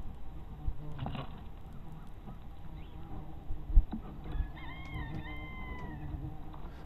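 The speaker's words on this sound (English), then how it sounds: "some of the wasps, of course, are coming after the person holding this camera" Yellow jacket wasps buzz around a disturbed underground brood nest, their faint hum mixed with rustling and a sharp knock, with a few louder buzzing passes close by later.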